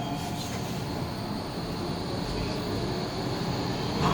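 A DLR light rail train running between Canary Wharf and Lewisham gives a steady interior rumble and roar, with wheel and track noise holding level and swelling slightly toward the end.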